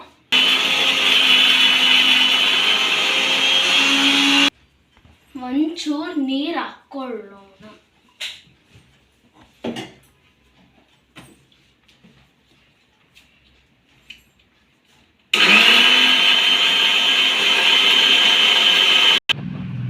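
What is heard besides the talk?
mixer grinder blending coconut chutney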